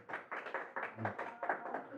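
Congregation applauding during a church service, a brief burst of light, somewhat distant clapping with uneven rhythm, with some speech mixed in.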